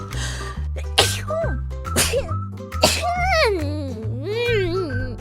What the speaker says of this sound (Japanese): くしゃみさ、2回出るんだけど、お得セット